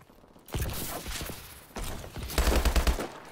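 Video game gunfire from a shooter, close, loud bursts of rapid shots in several clusters, the last one sharpest and most rhythmic.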